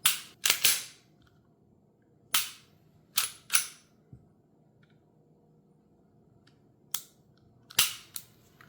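A Smith & Wesson Performance Center BodyGuard 2.0 compensated pistol is fired in sharp, loud single shots, several spaced apart and some in quick pairs, with near-silence between them and no talking.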